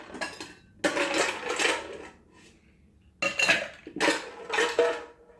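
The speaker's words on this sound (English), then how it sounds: "I'm going to finish that by adding some ice to our shaker." Ice dropped into a cocktail shaker for a bourbon-style mocktail, two bursts of clattering cubes rattling against metal, close and bright, separated by a short pause.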